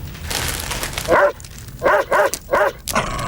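A dog lets out a string of four sharp whimpering barks, close and loud, the first alone and then three in quick succession over a steady background hum.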